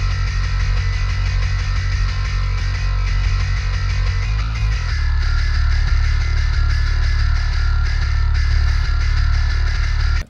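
Djinbass MIDI bass guitar by Submission Audio in a metal mix, a heavy, deep bass line with a bright pick attack, steady and loud throughout with no speech.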